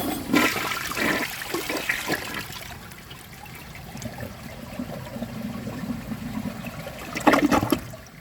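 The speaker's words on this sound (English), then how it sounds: "So it should complete the flush." A Project Source Pro toilet flushes close by with a rushing surge of water, then a weaker draining trickle and gurgle, ending with another brief splash of water.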